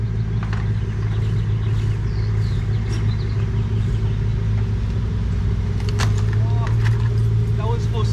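A 2010 Nissan 370Z Nismo with a six-speed manual pulling up, its engine a steady low rumble throughout, with faint jingling and brief higher noises near the end.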